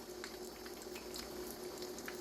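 Quiet, steady sizzling and bubbling of chicken Kiev frying in a pan, a continuous crackle with small pops throughout.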